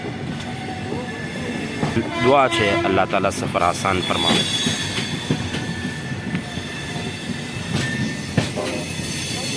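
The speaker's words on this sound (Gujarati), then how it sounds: "આપણી ગાડી ઉપરી ગઈ છે" A passenger train pulls out of Udhna station with squealing wheels and rattling, clattering carriages, while someone speaks over the rail noise.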